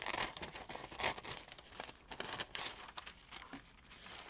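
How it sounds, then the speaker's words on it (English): Scissors snip and rustle through paper while cutting around a shape for an art journal collage, a close, quiet run of crinkly cuts with no talking. "I'm going to just cut this around."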